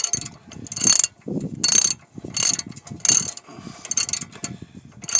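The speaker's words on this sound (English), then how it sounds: "Make sure everything's tight. Might have to put a different wrench on here." Quick ratcheting clicks of a wrench come in short bursts with pauses between, close and fairly clear, with no voices.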